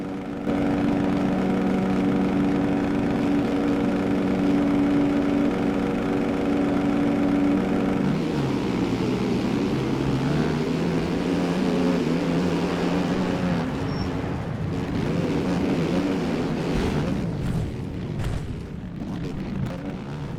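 In the MX Bikes video game, a pack of motocross bikes idles at the start gate, then revs up as the gate drops. The engines rise into a loud, layered roar that stays steady to the end.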